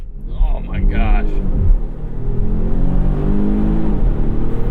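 A 2021 Volvo XC60 T8 Polestar, in Polestar Engineered mode, launches hard with a loud, rising engine roar as it fights for grip, after a brief voice at the start.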